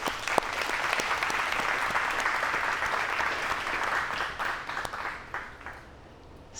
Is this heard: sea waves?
no